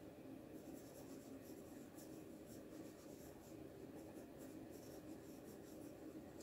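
A pencil drawing a hand holding a gun on paper makes faint, quiet scratching strokes that rub steadily in short repeated passes, close and soft, with no talking.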